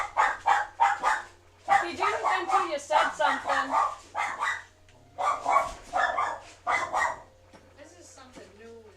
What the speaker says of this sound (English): And of course she's gonna bark.